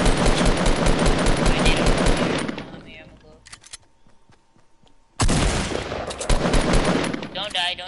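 Rapid automatic gunfire in a video game, loud and dense for about three seconds, then a near-silent lull, then another heavy burst of shooting with some rumble.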